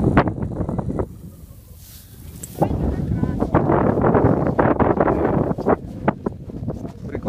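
Wind gusting across an open snowy field during snowkiting, a broad rushing roar that swells midway and stays strong, with wind buffeting the microphone and bursts of talk over it.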